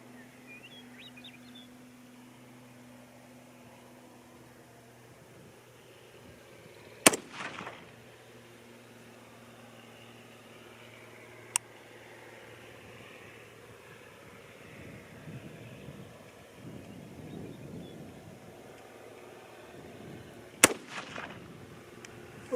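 Rifle shots from a .224 Valkyrie or 6.5 Creedmoor load at an outdoor range: two sharp, loud cracks about fourteen seconds apart and a fainter crack between them, over quiet outdoor ambience with faint birdsong.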